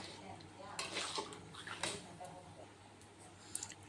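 Potato and taro curry being stirred in a pan after a little water goes in, with quiet scraping and metallic clinks of the spoon in scattered bursts under a voice.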